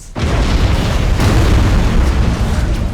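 An enemy Drukhari ship explodes in the space battle game Battlefleet Gothic Armada 2: a loud, sustained, roaring blast that rumbles heavily for about three seconds with no break.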